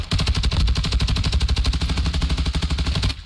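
Nonstop automatic gunfire in Call of Duty on Ashika Island, a loud, rapid, steady stream of shots running the full length without a break.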